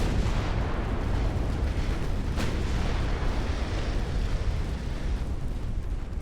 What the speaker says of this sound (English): Damn, the Mississippi took a hit. That's more torpedoes.